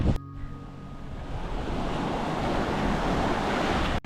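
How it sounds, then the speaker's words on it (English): Choppy ocean surf and gusting wind at Cape Leeuwin in Western Australia's South West, a steady broad wash of waves with wind buffeting the microphone, continuous and fairly close, no voices. "Just way too many waves and the water's quite choppy and like wavy"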